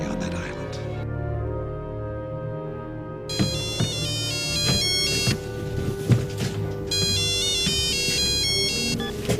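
A telephone rings with a repeating electronic melodic tone, bursts of the ring pattern recurring over a background of music and movement, fairly loud and close.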